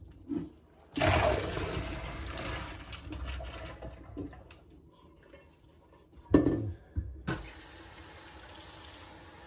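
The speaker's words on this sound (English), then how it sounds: "Next step is to rinse the beans in a colander like so" Tap water runs steadily over dry beans being rinsed in a colander for a ham and vegetable bean soup, with a brief clatter and splash partway through before the stream settles again.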